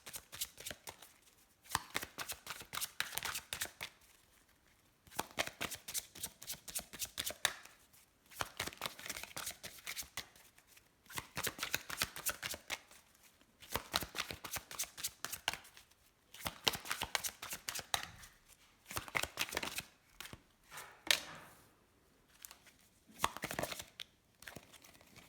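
Tarot cards being shuffled in a steady series of crisp riffling and papery flicking bursts separated by short pauses, close and fairly quiet, with no talking.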